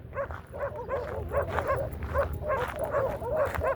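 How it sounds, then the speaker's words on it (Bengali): A group of hyena-like dogs living in a forest at a Saudi Arabian desert garden, yipping and barking in a steady rhythmic run of short calls, fairly close and continuous with no talk. "ওই যে হায়না জাতীয় কুকুর বের হয়ে আসছে।"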